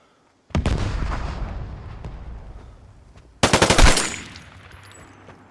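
Gunfire in the online shooter game Vigor: a sharp burst of automatic shots with a long echoing tail, then a second rapid volley of louder cracks that rings out, close and without talk.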